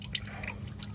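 Motor oil dripping from a car's drain plug during an oil change, a run of quick, light drips falling in an irregular rhythm, close and fairly faint, with no talking.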